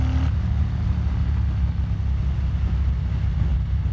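A Harley-Davidson Street Bob motorcycle tuned with a Power Vision IV and Fuel Moto tune idles and runs in cool weather, a steady loud low rumble throughout with no talking over it.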